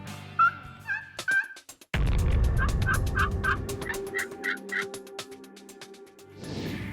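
A turkey slate call, scraped in the Missouri woods during a turkey hunt, plays a run of clear yelps and clucks imitating wild turkeys, with short repeated notes in several bursts over steady outdoor background.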